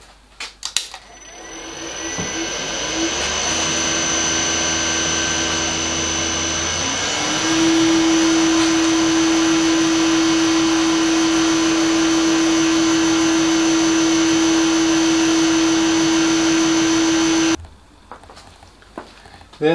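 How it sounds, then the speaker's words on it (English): A steady metalworking machine whine with a constant high tone runs for several seconds as a centre drill bores metal, shifting pitch once, then stops abruptly near the end. "So the first step is a centre drill."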